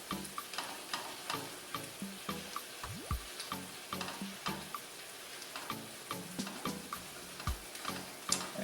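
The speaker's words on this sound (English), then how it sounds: "you can see that the sauce is now mixed with the vegetables and cooking" Kielbasa and vegetables simmer in a thickening vinegar sauce in a pan, giving a steady soft sizzle broken by regular clinks and scrapes of a utensil stirring, close and moderately loud, with no talking.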